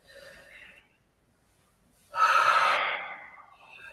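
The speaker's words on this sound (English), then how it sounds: "Nice slow deep breath." A slow, deep breath taken during a calm relaxation exercise: one strong, close exhale-like rush of air lasting about a second, preceded by quiet breathing and a brief pause.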